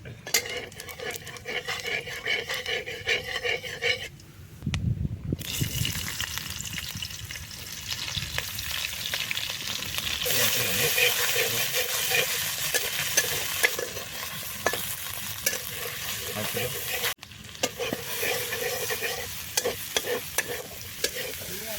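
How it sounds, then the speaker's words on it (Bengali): Lentils (dal) cooking in a pan over a clay stove at a village-style picnic, with steady sizzling and frying, frequent stirring scrapes and clinks of utensils against the pot, loud and close throughout. "ডাল রান্না শুরু হয়ে গেছে আমাদের"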